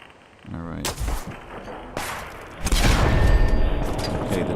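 Fallout 4 combat as a turret is blown up: several sharp gunshots and booming blasts, the last one rolling into a loud, sustained rumble that fills the final seconds.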